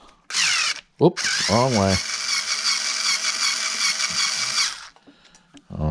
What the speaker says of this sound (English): This is just a little screw gun.